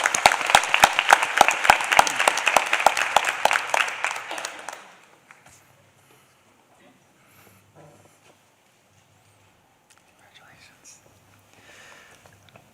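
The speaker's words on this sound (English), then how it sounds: "Let's give her a round of applause." Audience applause at a board of education meeting, a burst of clapping lasting about four seconds before fading out into quiet room tone with faint murmurs.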